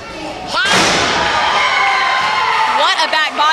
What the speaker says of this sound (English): Back body drop by Aric Andrews.